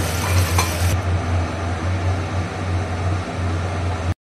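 Spiced gravy with garam masala, mace and nutmeg bubbles in a pan, a steady close sizzle with a low hum beneath that runs unbroken before stopping abruptly.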